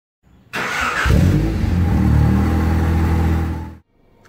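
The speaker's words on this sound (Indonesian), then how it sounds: "ini mobil yang aku pakai untuk video kali ini adalah Baleno hatchback tahun 2019 dengan transmisi automatic" A 2019 Suzuki Baleno hatchback with automatic transmission revs up hard after a brief start. Its loud, close engine holds a strong, steady roar for about three seconds before cutting off abruptly.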